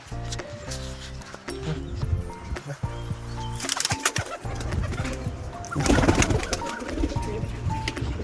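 Pigeons coo repeatedly near a loft as the flock goes back inside after feeding, soft rolling calls layered continuously with rustling and a few louder bursts of activity.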